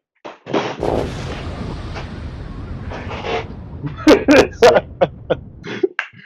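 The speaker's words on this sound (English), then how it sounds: "We need an explosion." Explosion sound effect played on a podcast: a rough, sustained rumbling burst with crackling, followed by several sharp bangs and pops near the end, fairly loud and without talk over it.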